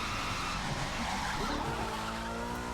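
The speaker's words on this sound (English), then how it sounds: "So I'm gonna try to do a little drift." A car drifts through a sharp turn in the racing game The Crew 2, its engine droning steadily while tires skid and squeal continuously, loud and close throughout.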